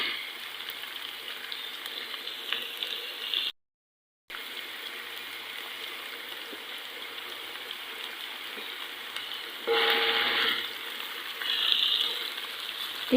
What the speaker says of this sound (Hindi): इसे सिर्फ 1 मिनट के लिए हल्का सा इसको इस तरह से फ्राई कर लेते हैं।